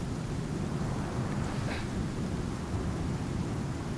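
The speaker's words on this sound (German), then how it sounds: "Uiuiui, da kommt noch ordentlich Sturm." A storm in the survival game Icarus roars as a dense, steady rumble of wind and rain, with a faint rolling thunder swell briefly rising midway, loud and continuous with no voices.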